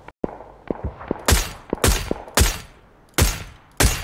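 Video game gunfire rings out in a rapid, irregular string of loud, sharp shots, some single cracks and some bursts, each with a booming low thump and a short ringing tail.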